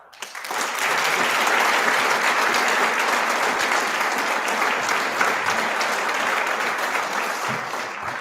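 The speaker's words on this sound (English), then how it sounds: "Another round of applause for them, please." A large crowd at a school graduation ceremony applauds the graduates with steady, sustained clapping that swells quickly and holds for several seconds.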